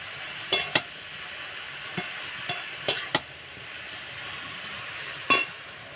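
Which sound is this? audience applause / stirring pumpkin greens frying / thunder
stirring pumpkin greens frying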